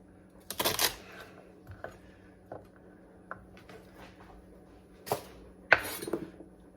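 Celery is chopped on a cutting board, giving a few sharp knife knocks in quick bursts. Sparse, softer taps come between them, and a faint background hum runs underneath.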